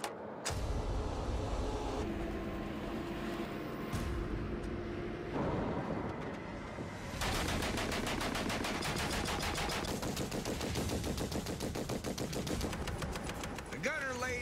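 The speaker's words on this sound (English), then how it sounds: "The gunner lays down as much suppressive fire as he can, while the driver uses his skills to get us out of harm's way." Sustained machine gun fire from an M8 Greyhound armored car moving at speed, loud and close, with rapid bursts layered over a rumbling vehicle engine and no talk.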